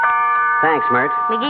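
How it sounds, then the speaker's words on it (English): A doorbell sound effect rings in the Fibber McGee & Molly old-time radio comedy, a steady chime tone held under a man's close, clear speech. "that was the doorbell."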